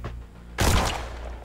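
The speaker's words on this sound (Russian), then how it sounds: "Выстрел." A loud gunshot or short burst of fire in the tactical game Mutant Year Zero: Road to Eden, an abrupt booming blast with a lingering rumble that follows quieter game ambience.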